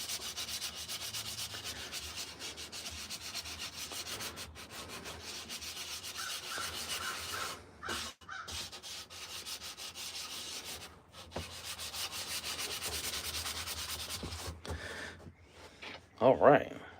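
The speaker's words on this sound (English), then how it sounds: "sanding." Steady abrasive rasping of sandpaper shaping the back of a carved wooden spoon, fairly faint and continuous, with brief pauses and a soft breath near the end.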